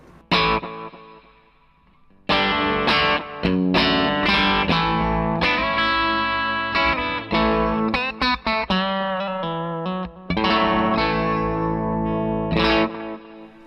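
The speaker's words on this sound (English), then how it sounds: "kind of my main delay sound is just this." An electric guitar plays a loud, distorted riff through a delay pedal, repeating echoes trailing each note, the delay smearing the chords into a washy, spacious sound.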